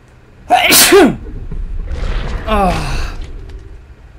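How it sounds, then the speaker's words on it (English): One loud, close sneeze bursts out, followed by a breathy sigh and a brief vocal groan as the person recovers, with no other sound around it. "I'm gonna sneeze here."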